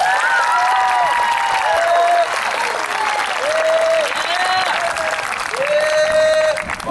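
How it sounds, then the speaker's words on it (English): Steady applause for the 8th grade teachers at a graduation, many hands clapping continuously, with faint voices and cheering mixed into the crowd. "Let's give the 8th grade teachers a big round of applause"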